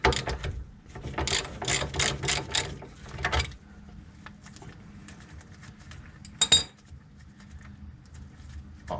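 Rapid ratcheting clicks from a wrench working loose the 19 mm outer tie rod nut on a VW Beetle front suspension, several quick bursts close up, then a pause and a sharp metallic clink, with no talking.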